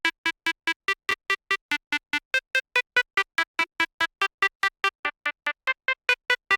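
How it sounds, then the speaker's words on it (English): Two layered synth lead presets play a simple, catchy techno melody as a fast run of short, evenly spaced staccato notes that hop between a few pitches, bright and upfront with no voices. "So I took these two lead presets and made this super simple and catchy melody."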